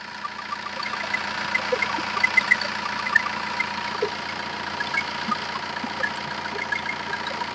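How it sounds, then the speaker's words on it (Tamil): A Chevrolet diesel car engine idles steadily at a used car lot, a continuous low rumble with a faint rhythmic knock, moderately loud and close, with no talking. "இது வந்து ஒரு டீசல் இன்ஜின் சார்."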